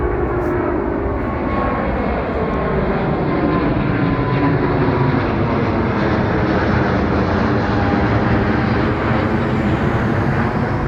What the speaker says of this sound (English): Another big plane coming. Sorry, I just love recording the big planes.